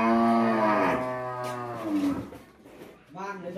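A cow lows loudly on a Vietnamese breeding-cattle farm raising BBB beef cows, one long harmonic moo that rises and fades, followed by a second shorter moo near the end, with no talk.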